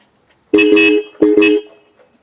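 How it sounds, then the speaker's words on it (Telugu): Royal Enfield Interceptor 650 motorcycle horn sounded in two short close honks, each a bright double-toned beep, with silence before and after. "హార్న్ ఒకసారి చెక్ చేద్దాం"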